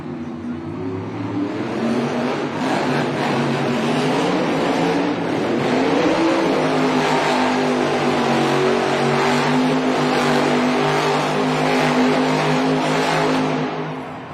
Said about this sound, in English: Coming up next, looking for some Dynamite Donuts, Tim Hall Jr., Jurassic Attack.